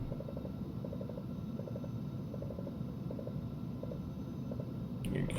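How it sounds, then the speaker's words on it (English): Aircraft trim wheel running inside the cockpit of a Falcon 50EX in the X-Plane 11 flight simulator, repeated short rattling bursts of clicks in a steady rhythm over a constant low engine rumble, no talking. "You can hear the trim wheel going off,"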